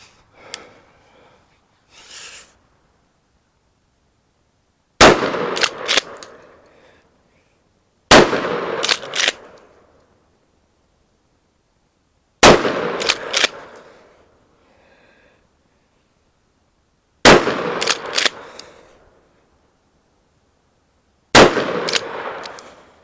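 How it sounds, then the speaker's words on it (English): Shotgun slugs fired from a Remington TAC 14 and a Mossberg Shockwave: five loud, close blasts spaced a few seconds apart, each followed by quick clattering pump or action sounds and a short ring-down. "we'll be shooting low recoil Fiocchi slugs in the TAC 14 and Remington sluggers in the Mossberg shockwave"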